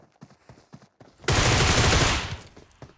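Gunfire in PUBG Mobile, a dense loud burst of rapid shots lasting about a second after brief quiet voices, trailing off into softer game sounds.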